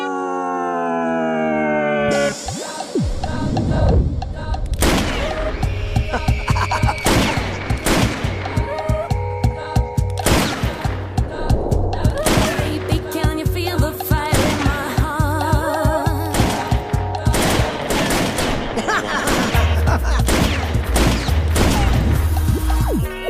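Guns fired in celebration at a wedding, a dense loud volley of shots going off continuously with music playing throughout.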